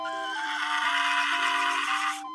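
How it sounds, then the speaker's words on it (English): A toy pony called Giddy Up Buttercup, built from springs, screws and gears, gives a loud, drawn-out mechanical whinny that wavers like a real horse's neigh, then stops abruptly. "Giddy up, Buttercup sounds like a real pony."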